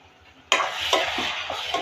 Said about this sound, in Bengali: এখন একটু নেড়ে ছেড়ে দিব